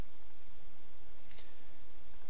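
A computer mouse clicks during spreadsheet-style statistics work: a quick pair of faint clicks midway through a steady background hiss, with no talking.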